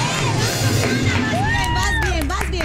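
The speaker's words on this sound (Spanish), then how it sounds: "¡Aplauso para Ana!" A quiz show crowd shouts and cheers for a contestant after a correct answer, a loud burst of lively whoops and babble, with a few high rising calls on top.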